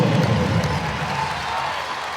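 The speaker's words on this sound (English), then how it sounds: "the crowd finally has something to cheer about" A basketball arena crowd at a Louisville versus Syracuse game cheers and applauds, a broad steady roar that is loudest at the start and settles slightly as it carries on, without clear voices above it.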